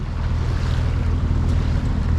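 Light wind blows at sea aboard a sailboat near the Balearic Islands, a steady close rushing with low water and wind noise on the microphone.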